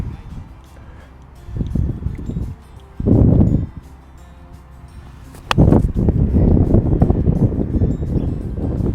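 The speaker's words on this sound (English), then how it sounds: "Really windy today" Strong wind buffets the microphone in loud, rumbling gusts that come and go on the golf course at St Andrews, then settles into a sustained roar toward the end.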